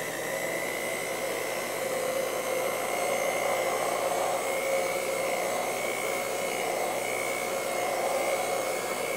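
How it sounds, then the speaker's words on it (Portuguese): An electric hand mixer whirs without a break while whipping a batch of homemade detergent in a basin, a steady even drone that holds a constant pitch from start to finish, with nobody speaking. "Então, gente, eu vou pegar a batedeira."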